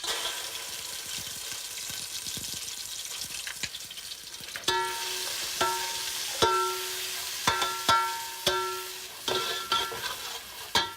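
Curry paste fries in hot prawn-infused oil, a continuous sizzle punctuated by a series of louder scraping stirs that come in a loose rhythm toward the end, close and alone without talk.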